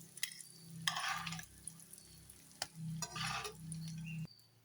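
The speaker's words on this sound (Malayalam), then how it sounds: "ആ സമയം കൊണ്ട് നമ്മുടെ മുട്ടയൊക്കെ റോസ്റ്റ് ആയിട്ടുണ്ട്" Eggs roast in hot oil in a pan, with soft sizzling in short bursts and occasional taps of a utensil nearby; the frying comes and goes rather than holding steady.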